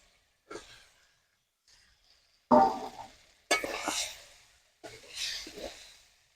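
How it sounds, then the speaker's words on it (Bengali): Fried potato and cauliflower pieces are tipped into a pan of spiced rohu fish curry masala, giving three short bursts of hissing sizzle and scraping separated by brief quiet gaps. "এবার আমি দিয়ে দেবো আলু আর ফুলকপি যে ভেজে রেখেছিলাম ওইটা ঢেলে দেবো"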